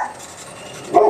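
Dogs barking outdoors, a single short muffled bark arriving near the end of a brief stretch of quiet room tone, heard at a moderate distance.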